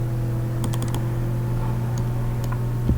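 A few quick computer keyboard keystrokes while drafting an elevation drawing in AutoCAD, light clicks in short clusters over a steady low hum, with a faint extra tap or two later.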